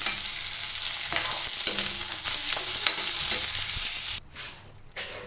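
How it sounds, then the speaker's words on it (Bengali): Onion and capsicum sizzle in hot oil with garlic for chilli paneer, a bright continuous frying hiss broken by repeated stirring scrapes, with no talk. "এখানে পেঁয়াজ আর ক্যাপসিকাম দিয়ে দিয়েছি, এগুলো হালকা ভাজা ভাজা করে নিচ্ছি"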